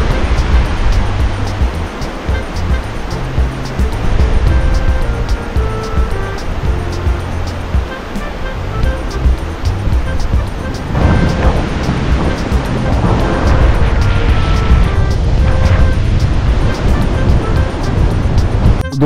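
Sea waves roll in steadily at Shrivardhan Beach, a loud, continuous surf roar with broad washing surges, heard close with some wind.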